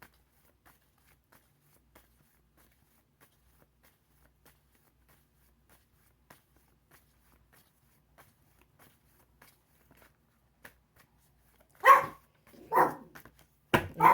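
A few short dog barks near the end, sharp and fairly close, after a long stretch of near silence with faint ticks.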